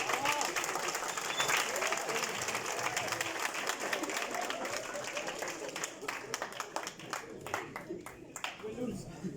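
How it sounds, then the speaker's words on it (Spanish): A crowd at an introductory AI talk applauds, many hands clapping in a continuous, fairly soft roar that stays even for most of its length, then breaks into sparser, more distinct claps near the end. "¿Qué tal si le damos un aplauso de calidad?"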